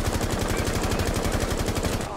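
Rainbow Six Siege gunfire: a steady, loud automatic burst of rapid rhythmic shots lasting about two seconds, close and continuous before cutting off.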